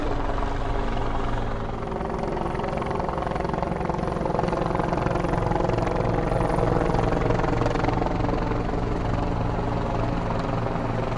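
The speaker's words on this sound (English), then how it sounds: "The helicopter just doing these weird loops" A helicopter flying loops over Washington, D.C. drones continuously, its rotor thumping in a steady rhythmic chop, loud and unbroken throughout with no voices.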